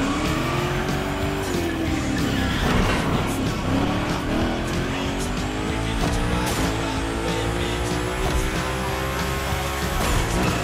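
A car drifting through a gymkhana course in The Crew Motorfest, engine revving up and down with tires squealing through long slides, loud and continuous.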